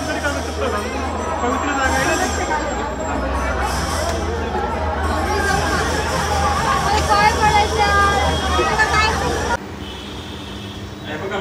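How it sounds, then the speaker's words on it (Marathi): Dense crowd hubbub of many overlapping voices at a busy public spot, with traffic noise mixed in, steady and loud for most of the stretch before dropping to a quieter murmur near the end. "गर्दी आहे ना तिकडं."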